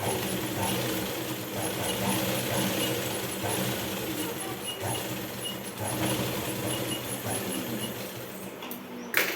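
A sewing machine stitches along cut fabric with a steady, close mechanical hum that runs almost without a break and ends in a brief clack.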